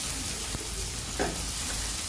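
Egg and tomato stir-frying in a pan, a brief close burst of steady sizzling with a couple of quick scraping stirs.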